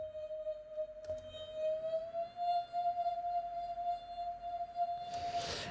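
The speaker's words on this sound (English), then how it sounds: "it's a vocal chop going through this Granular Engine" A vocal chop run through a granular synth engine becomes a single sustained, slightly wavering tone that holds steadily before a breathy noisy swell at the end, clear and alone in an ambient synth patch.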